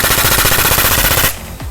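Rapid burst of gunfire from a gun fitted with an extremely long 22.86-meter suppressor, a dense, loud stream of shots with a muffled, hollow tone that cuts off abruptly into a quieter tail.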